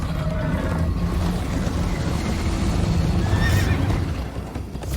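A horse in Minecraft: Story Mode whinnies over a steady rumble of hooves and wind, with a louder neigh near the end, no speech.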